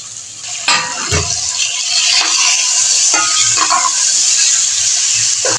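Chicken roast pieces dropped into masala with milk in a hot pan, a loud sustained sizzle after a thump, with a few stirring scrapes over the hiss.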